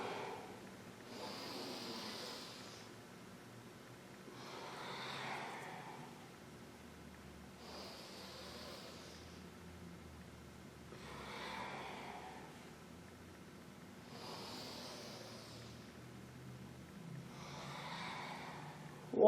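Powerful pranayama breathing during a seated cat-cow yoga practice, six forceful exhales through the nose at a slow, even pace, each a close, breathy rush of air separated by quieter pauses.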